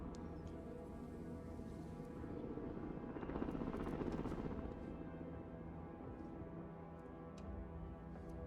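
Military helicopter in the war video game Broken Arrow, a steady distant rotor thrum and engine drone with brief faint clicks and a swell in the middle, no talk over it.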